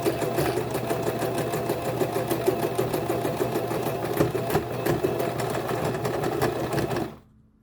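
A sewing machine stitches a wig in a fast, steady run of needle strokes, loud and close, continuing unbroken until it stops abruptly near the end.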